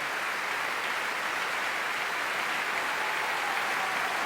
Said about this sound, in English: tonight the applause is all for this pianist, Yunchan Lim.